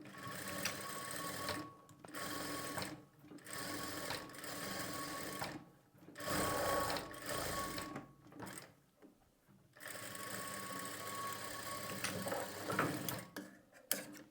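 Sewing machine stitching around the back neck of a blouse runs in steady mechanical bursts, with several short pauses between runs, close and alone.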